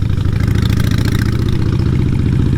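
A Harley-Davidson 883 Iron bobber idles with a Vance & Hines exhaust, a loud, close, deep rumbling lope with rapid even pulses, steady and alone for the whole stretch.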